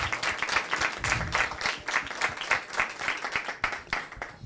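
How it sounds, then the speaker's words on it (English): A crowd applauds with dense, steady clapping from many hands, moderately loud and continuous throughout, at a congressional candidate debate. "Yeah, you can clap for that."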